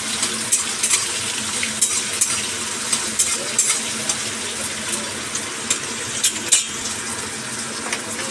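Goat meat, liver and goat fat frying in oil, a steady close sizzle with scattered clinks and scrapes from stirring in the pan.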